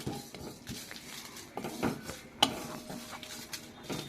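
Whole spices dry-roast in an oil-free pan for pickle, giving light rattling and scraping clicks from repeated stirring, with one sharper knock partway through and no voices.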